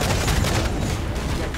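Enemy ship captain's cannons firing in Assassin's Creed IV: Black Flag naval combat, a dense, continuous roar of overlapping booms and blasts rumbling throughout, loud and close with no break.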